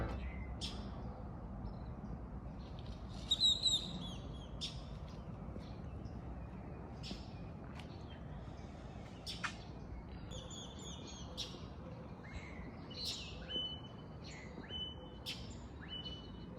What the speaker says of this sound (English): listen to all the birds come out of the jungle